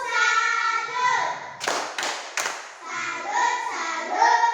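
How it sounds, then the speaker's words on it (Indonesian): A school class performs a rhythmic clapping chant, with three sharp bursts of group clapping in the middle between stretches of children chanting together in unison, loud and close in a classroom. "Kalau begitu, tepuk salut dulu untuk kalian."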